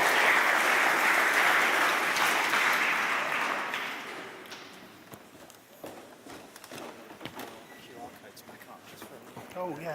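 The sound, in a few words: conference audience applause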